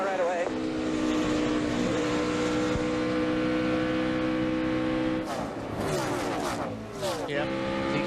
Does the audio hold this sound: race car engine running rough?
yes